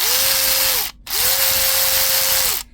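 A Milwaukee M12 3/8-inch cordless electric ratchet runs in two close, loud bursts with a short pause between, each a steady mechanical buzzing whir that rises as the motor spins up and drops away at the end.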